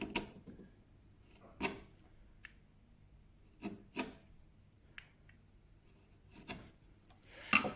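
A chisel cuts into a hard piece of oak with a few separate scraping, rasping strokes spaced out over several seconds, close but quiet.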